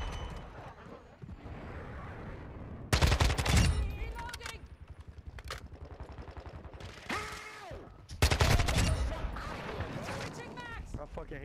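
Rapid automatic gunfire in the video game Modern Warfare 2, loud bursts of a fast-firing weapon in two heavy volleys with clattering mechanical sounds between, over steady game background noise and a voice.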